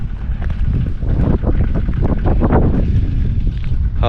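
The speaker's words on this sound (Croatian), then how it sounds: "evo i danas malo ima vjetra nešto" Wind roars and buffets the microphone in a dense, loud rumble on an open stretch of road in the Vrgorac field during an outdoor aerodynamics test, with no voices.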